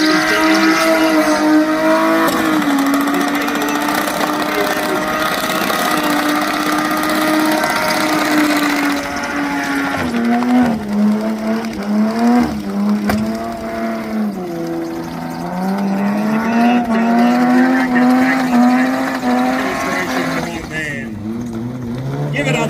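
A drift car at a motorsport festival revs hard through sustained, rising and falling engine notes over roughly twenty seconds, broken by squealing tyres as it slides, loud and close, with a voice talking faintly beneath near the end.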